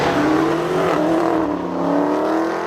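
Dodge Hellcat and BMW M3 launching side by side in a drag race, a loud sustained engine roar with rising revving pitch and tyre-struggling strain, continuous and close throughout.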